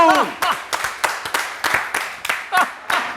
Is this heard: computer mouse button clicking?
no